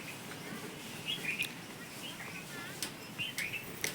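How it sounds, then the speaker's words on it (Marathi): Sparrows chirp in short, high bursts at a distance while feeding, scattered faintly over a quiet background hum. "खात आहेत सगळे इकडं चिमण्याला पण ठेवलं"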